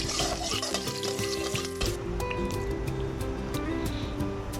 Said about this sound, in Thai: น้ำมันมะพร้าวนี่ของโปรด นะครับหอมแดงสร้อยนะฮะเจียวให้เหลืองหอมเลย